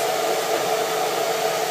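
A hair dryer fitted with a diffuser attachment blows a steady, loud, close whooshing roar with no break and no voices.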